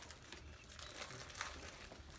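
Crinkly handling of a roll of tape, faint rustling and crackling with small irregular bursts, quiet and close, no talking.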